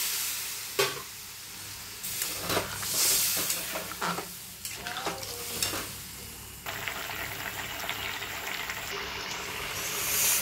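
Water poured into spices frying for a prawn curry sets off a loud, steady hiss and sizzle, with stirring scrapes in the pan, close by and continuous, then a brighter bubbling rush after the water goes in.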